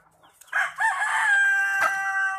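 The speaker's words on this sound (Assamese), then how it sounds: "দেশী মুৰ্গী এইটো" A desi Sonali chicken crows loudly and close by in one sustained call with a few clucks around it, alone in an otherwise quiet setting.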